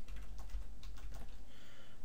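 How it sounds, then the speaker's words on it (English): Typing on a computer keyboard, a quick run of soft, close key clicks for about two seconds, no talking. "I'm just going to type in my credentials"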